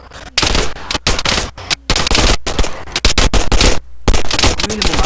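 Rapid bursts of automatic gunfire from the video game Arma 3 crackle loudly in choppy volleys separated by brief silences, with voices occasionally faint underneath.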